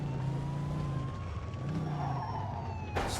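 A car with a burst tire drives in the Mafia II game, its engine droning steadily with tonal whines and tire noise, ending in a sharp burst of skid-like noise near the end.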